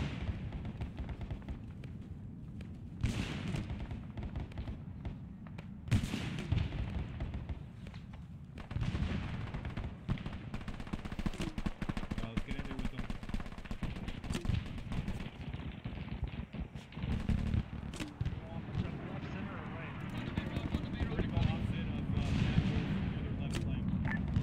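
Machine gun and artillery fire in a Vietnam war video game rumble continuously at moderate distance, with sharper bursts and booms rising over a dense low battle roar.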